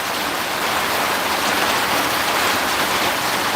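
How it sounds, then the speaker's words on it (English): Heavy rain pours steadily and loudly throughout, a dense continuous hiss of drops with no pauses, on a winter day aboard a camping boat. "Oh, that rain's heavy."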